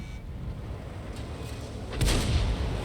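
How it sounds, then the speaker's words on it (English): Tank cannon firing APCR rounds in a tank battle video game: a single heavy booming shot lands near the end over a steady rumbling battlefield background. "he's shooting APCR right through these guys"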